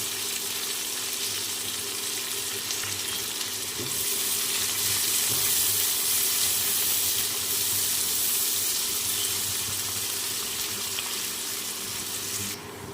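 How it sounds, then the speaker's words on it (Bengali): Chopped onions and slit green chillies fry in hot oil in a kitchen while a spicy pomfret fish dish is being made, giving a continuous, close, hissing sizzle with a few faint pops throughout and no voices. "দিয়ে দিচ্ছি পেঁয়াজ কুচোনো আর চেরা কাঁচা লঙ্কা"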